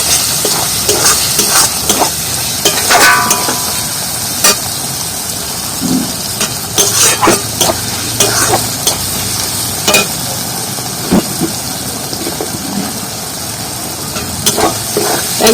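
Masala paste, loosened with a little water, is fried and stirred in a pan for a water-lily-stem chicken curry. Loud, close spatula scrapes and clanks come in irregular bursts over a continuous sizzle.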